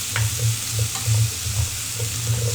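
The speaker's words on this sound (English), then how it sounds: "Okay, I'm gonna add the rice cake in here now. It smells really good. And then let's just toss this around a little bit." Rice cakes for carbonara tteokbokki tossed in a hot pan, a loud close sizzle with rhythmic scraping and shuffling as they are moved around, no voices.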